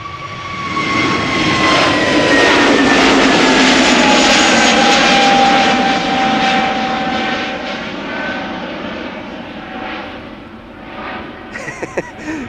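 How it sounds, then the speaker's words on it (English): An Airbus A320neo jet departs Schiphol's Polderbaan runway, its engine roar loud and steady with a whining tone, then slowly fading as it climbs away. "An A320neo outbound to Reykjavik."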